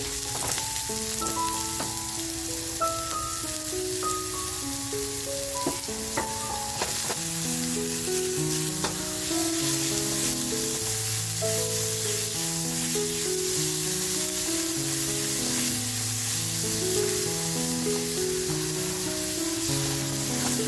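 Onion frying in a pan for a Konkani dish of bombil stuffed with prawns: a steady, close sizzle runs throughout, with a melodic tune playing underneath.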